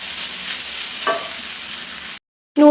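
Chicken noodles going into a pan and being stirred, a steady frying hiss with a brief clink near the middle, dropping to silence before a short tonal sound at the end.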